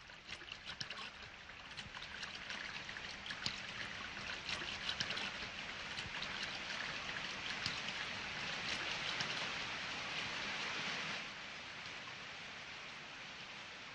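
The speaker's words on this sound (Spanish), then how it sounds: "Esta cascada de cola de caballo procede de una fuente próxima, perenne y límpida." A horsetail waterfall at Petra, Jordan, fed by a nearby spring, rushes steadily and continuously, a soft, even roar with no voices.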